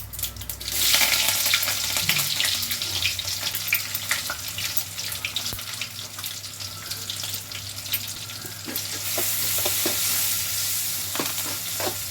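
Potatoes fry in hot oil for aloo rice, a close, continuous sizzle and crackle with occasional spatula clinks and stirring scrapes, without any voices.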